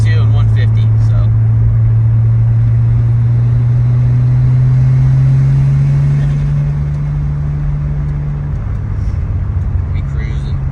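A Nissan S13 with an RB25 engine pulls hard on high boost, a loud steady engine drone climbing in pitch for several seconds before easing off, heard from inside the car with a voice speaking over it.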